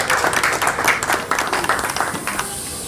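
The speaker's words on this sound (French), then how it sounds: "Acclamons très fort." Warm applause from the guests at a civil wedding ceremony, with dense, loud, continuous clapping that holds steady for a few seconds and then thins slightly near the end.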